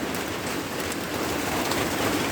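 Morning rain pouring down on a farm in Maha Sarakham, Thailand, a dense, continuous hiss of falling water that stays loud and even for the whole stretch, with no voices.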